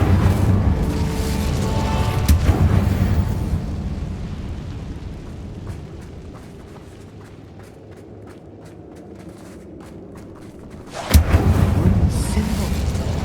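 The Incendio fire spell is cast in Hogwarts Legacy, producing loud whooshing, booming bursts of flame that swell, fade to a low rumble, then erupt again sharply near the end, with a voice speaking over them.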